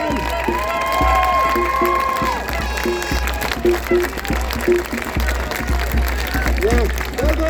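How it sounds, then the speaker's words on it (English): Protest crowd outside RTE studios in Donnybrook claps and cheers, a loud mix of scattered clapping, shouts and whoops with amplified voices and music tones cutting through close by. "Can I get a big round of applause for everybody that came here today?"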